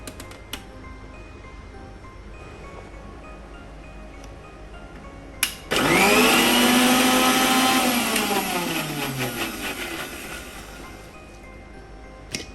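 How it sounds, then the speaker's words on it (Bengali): After a quiet start with a couple of clicks, a kitchen blender roars to life on mint chutney ingredients, its motor pitch sweeping down as it loads and then holding a loud whir before trailing off, with no voices. "এগুলো দিয়ে আমি এখন ব্লেন্ড করে নিব"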